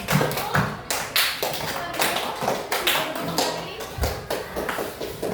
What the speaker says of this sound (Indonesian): Kasih tepuk tangan dulu buat kelompok 1.